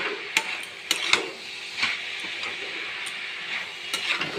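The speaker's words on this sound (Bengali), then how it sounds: "সমস্ত মশলাগুলো দিয়ে আমি ভালো করে কষিয়ে নেব।" Ground spices and sugar are stir-fried in a pan for a cabbage dish: a spatula scrapes and clinks against the metal in irregular strokes over a light, continuous sizzle, close by.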